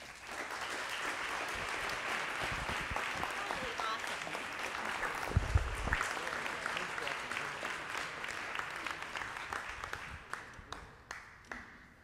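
An audience applauds after a keynote talk on happy families, dense sustained clapping that thins into scattered individual claps toward the end, with faint crowd murmur underneath.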